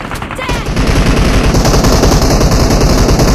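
Sustained automatic gunfire in the mobile battle royale game BGMI, a dense, loud, continuous rattle of shots with excited voices shouting over it.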